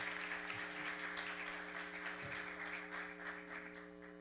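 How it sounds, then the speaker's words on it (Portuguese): Audience applauding for a research panel, fairly faint clapping over a steady electrical hum, continuing evenly throughout. "bate palmas para nossos grandes de painel"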